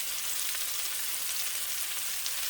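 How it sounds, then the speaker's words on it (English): Mushrooms sauté in an oiled pan with a steady, close sizzle and soft frying hiss, no voices over it. "just add the mushrooms and saute those a bit"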